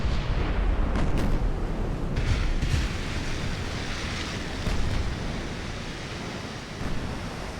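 Naval shellfire in Ultimate Admiral: Dreadnoughts, an Austro-Hungarian 1890s fleet action, heard as a continuous roar of distant gun reports and rumbling blasts over a wash of sea noise, without talk.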